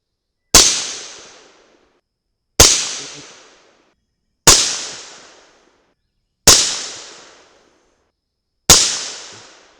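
Five sharp rifle shots from a 300 Blackout firing 115-grain Lehigh Defense Controlled Chaos rounds, evenly spaced about two seconds apart, each a loud crack with a short decaying tail and silence between.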